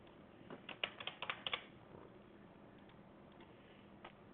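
A few quick keystrokes on a computer keyboard while entering a wrong username or password into a login form, a short cluster of soft clicks in the first two seconds, then near silence with one faint tap.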